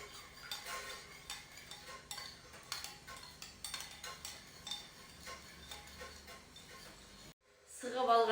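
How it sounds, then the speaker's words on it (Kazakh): Vaseline is stirred into onion juice in a small dish, a quiet, steady clinking and scraping of a utensil against the container that stops abruptly near the end. "Жақсылап араластырамыз."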